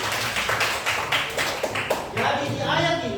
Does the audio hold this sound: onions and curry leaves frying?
no